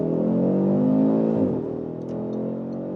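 Audi RS3 five-cylinder in sport mode accelerating hard on a motorway, a loud, steady engine roar rising in pitch, easing briefly halfway through, then pulling on with no talk over it.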